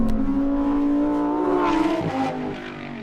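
A Lamborghini Huracán Tecnica's 5.2-litre V10 revs hard, a loud, close, rising engine howl with a brief dip and shift before settling into a steady high drone.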